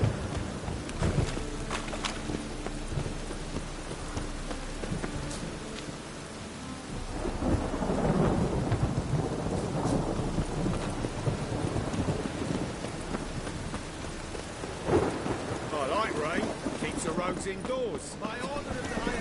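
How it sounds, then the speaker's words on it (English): Rain falling steadily with rumbles of thunder in The Witcher 3 video game, a continuous wet wash that swells in the middle, with game voices talking over it. "It only ever rains these days."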